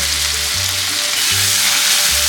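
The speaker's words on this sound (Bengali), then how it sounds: "ক্যাপসিকামগুলো ভেজে নেব" Capsicum frying in a pan with turmeric and salt gives a loud, steady sizzle with broad crackling hiss throughout, a faint background hum and no voices.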